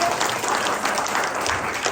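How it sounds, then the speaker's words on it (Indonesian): Short burst of steady audience applause during a church sermon, even and continuous clapping throughout with no voices over it. "Kalau mau tepuk tangan aja."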